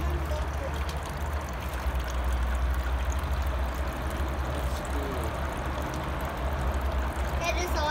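Steady trickle and splash of water from a small garden waterfall, continuous and close, with no clear pauses.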